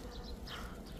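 Honeybees buzz among several hundred crocus flowers, a soft steady hum with no talk over it.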